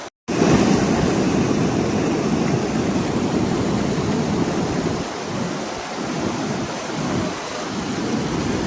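Water from a waterfall roars as a steady, loud broadband rush that stays constant throughout, with slight dips in the later part.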